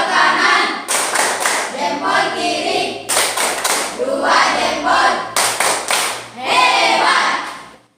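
A group claps a thumb-clapping game in a teacher training session, with quick rhythmic bursts of claps separated by short gaps, loud and close.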